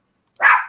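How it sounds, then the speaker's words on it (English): A dog lets out a single short, sharp bark, close and fairly loud, with silence before it. "Quiet dog."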